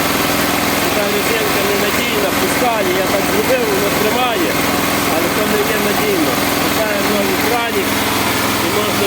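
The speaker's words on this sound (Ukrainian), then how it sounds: "зараз буду намотаю шнурок на ручній старці" A small petrol generator with a manual pull-starter runs steadily and loudly, its engine hum constant and close throughout with no pauses.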